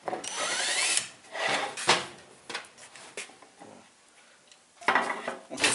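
A power drill whirs in several short bursts, spinning up and stopping, with a gritty grinding texture as it drills a hole into wood at close range.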